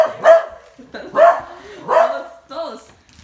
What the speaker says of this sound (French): Même le chien est dans la vidéo.